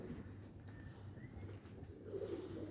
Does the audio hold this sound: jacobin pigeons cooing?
yes